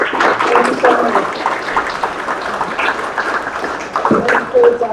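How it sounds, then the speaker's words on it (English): Round of applause for committee members at a general session meeting, moderate scattered clapping from a seated audience with voices overlapping, holding steady for several seconds before thinning out. "give everybody a round of applause for their efforts"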